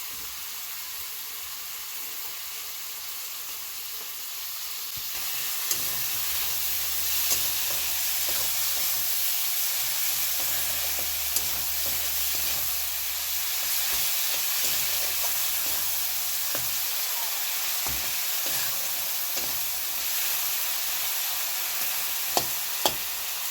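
Tomatoes frying in a pan for potato curry, a steady sizzle and hiss with occasional stirring clinks and scrapes, close and continuous, with no talking.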